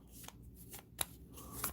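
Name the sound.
shuffling a deck of story cards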